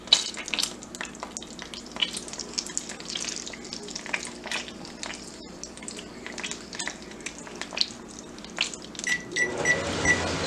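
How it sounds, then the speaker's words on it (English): Chicken frying in a pan of hot oil and butter, a steady close sizzle with scattered crackles and pops, heard alone with no talk. "fry our chicken 4 minutes each side"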